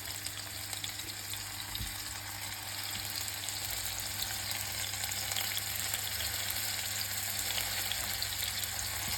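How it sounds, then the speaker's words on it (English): Brussels sprouts sizzle steadily in a hot pan with duck fat, a constant crackling hiss with occasional pops, close up and without any voices. "Beautiful and green and sizzling away."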